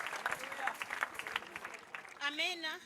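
Clapping rises from a congregation at a church prayer service, a soft rippling round of applause, with a voice speaking over it and carrying on at the end.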